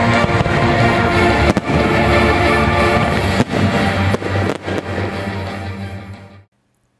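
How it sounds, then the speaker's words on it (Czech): Loud fireworks crackle and boom continuously, with sharp bursts punctuating a dense roar before it cuts off abruptly near the end. "Vrcholem dne pak byl ohňostroj"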